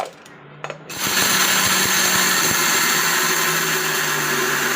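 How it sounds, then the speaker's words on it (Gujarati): A mixer grinder starts up after a quiet moment and grinds peanuts loudly and steadily for several seconds, a harsh continuous whir with rattling. "હવે આને આપણે છે ને પહેલાં મિક્સરમાં દાણા પીસી લઈ."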